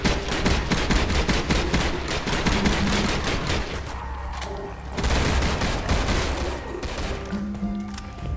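An M1 carbine fires in rapid, continuous bursts in a zombie shooter game, close and loud, its dense crackling volleys briefly easing before resuming.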